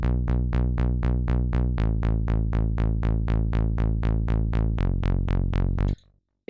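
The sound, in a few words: synth bass line of remix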